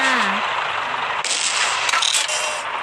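Gunfire in a shooting video game rings out as a loud, dense burst of rapid shots with sharp bright cracks, close and continuous over a few seconds.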